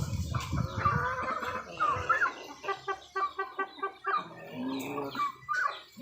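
Chickens cluck on a rural farm, a steady run of close, moderately loud clucks and a rhythmic series of short pulsed calls, with other fowl murmuring in the background and no talk.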